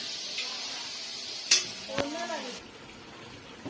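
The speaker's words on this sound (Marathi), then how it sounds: "सर्व भाज्या इकडे तळून घेत आहेत" Vegetables for veg biryani fry in hot oil over a wood-fired stove, a steady close sizzle with a few sharp clinks of a utensil and a brief voice cutting through.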